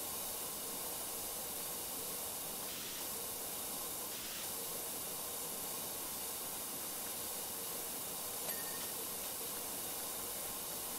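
A powerful pressure washer sprays continuously in PowerWash Simulator, producing a steady, even hiss that holds unchanged from start to finish with no talk.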